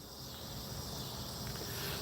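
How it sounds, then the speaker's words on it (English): Outdoor night insects and frogs keep up a steady, dense chirping and trilling chorus at a constant moderate level, with no talking. "The bugs and the frogs and the cricket."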